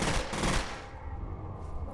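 Gunfire in F.E.A.R. erupts as a loud close burst in the first half second, then trails off into a rumbling echo and fading debris noise.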